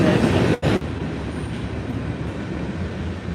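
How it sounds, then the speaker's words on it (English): A long train rumbles past at very close range, a loud continuous roar with wheel noise and one brief dip near the start. "I just want to show you where the train's coming from. It is right next to us."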